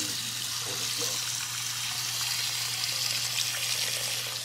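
Water poured into a Volcano S30 vaporizer cylinder head (heat sink) for cleaning, a steady close trickling and splashing stream under a constant low hum, with no talk.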